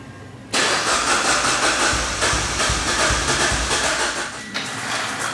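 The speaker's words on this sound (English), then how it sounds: "We just unplugged the fuel injectors so we can crank the vehicle over a few times and push a little oil into that turbocharger" Mitsubishi Evo engine with upgraded turbo and fuel system cranking over with the fuel injectors unplugged, the starter churning steadily and loud without the engine catching, then briefly pausing and resuming near the end.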